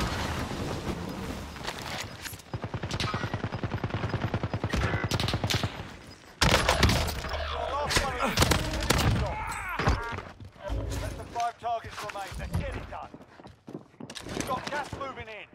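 Lapa SMG firing in the video game Warzone, rapid close automatic bursts that stop and start, mixed with other game effects and someone talking over the action.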